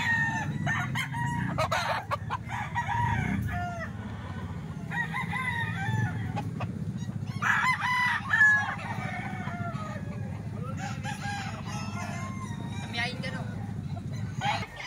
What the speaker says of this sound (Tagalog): Quality manok to mga boss.